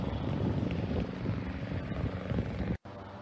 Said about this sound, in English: That's the helicopter flying around looking for a spot.